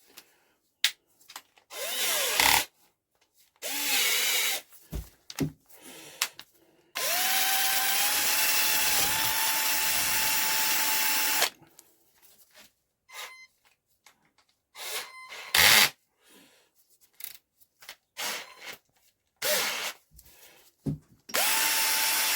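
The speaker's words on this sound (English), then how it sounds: "I'm going to clean that seat up a little bit more before I start grinding." A power drill whirs in repeated bursts, grinding an engine valve seat in a Deutz cylinder head, with one long sustained run in the middle and short on-off pulses around it.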